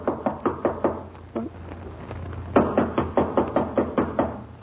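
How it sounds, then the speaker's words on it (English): Knuckles rapping on a door in two bursts of quick, sharp knocks, loud and close, a short pause between them. "Well, try knocking."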